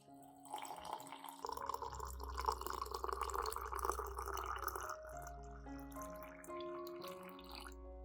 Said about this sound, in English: Finally, I will add 300 milliliters of clean water.